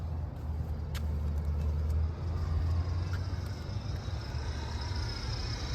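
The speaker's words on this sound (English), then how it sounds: "As the UPS truck goes by." A UPS delivery truck drives past on a busy street, a low engine rumble and road noise that holds steady and fairly quiet, then eases slightly as it moves by.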